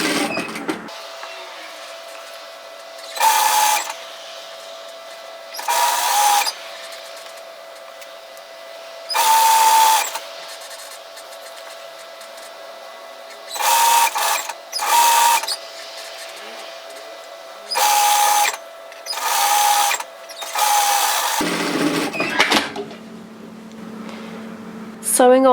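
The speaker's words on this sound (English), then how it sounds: "I'm going to do is just tack stitch those edges together and then overlock this into my garment" An overlocker stitches the edges of a yoke sweater together in about eight short, whirring bursts spread through the stretch, under steady talk from a nearby voice.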